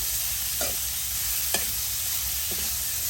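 Pork pieces stir-fried with fried garlic in oil: a dense, continuous close-up sizzle with a few quick spatula scrapes, no voices.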